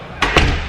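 The door of a 2017 Toyota Fortuner shuts with two quick, solid thuds close by, against a steady background hum.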